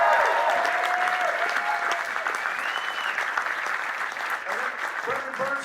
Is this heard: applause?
yes